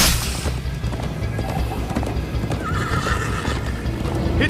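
Minecraft: Story Mode horse galloping during a ride, with steady dense hoofbeats and loud neighs and whinnies, up close over a rumbling game soundtrack.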